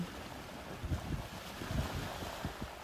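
Ocean waves roll in steadily under still air, a continuous low wash with soft rising and falling surges and a faint windy rumble, with no voices.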